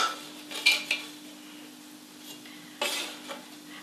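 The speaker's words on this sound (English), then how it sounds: "I'm using a palette knife to lift them off the tray, and this is a non-stick tray." A palette knife lifting baked scones off a non-stick baking tray, giving a few short metallic scrapes and taps, close by, with quiet gaps between them.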